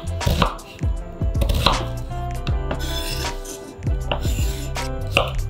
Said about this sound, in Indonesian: Ambil 1 biji bawang besar dan potong secara kasar.